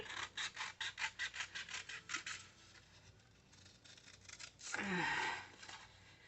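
Scissors snip rapidly through paper in a regular rhythm of about a dozen cuts, followed by a pause and then a louder rustling scrape.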